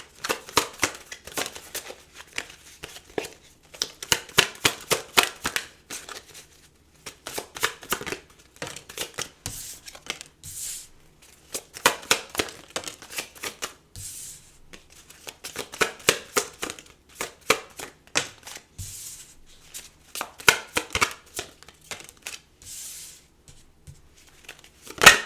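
Tarot cards are shuffled by hand over and over, making fast, crisp riffling and flicking bursts up close, broken by short pauses, with no talking.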